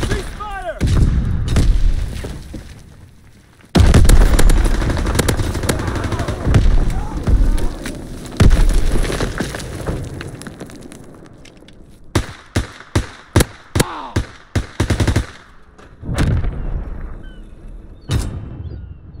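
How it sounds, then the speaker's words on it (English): Gunfire rings out through a video game battle: heavy bursts and booms pile up early on, then sharp separate shots crack in quick clusters near the end, with game voices talking over parts of the fighting. "Taking fire!"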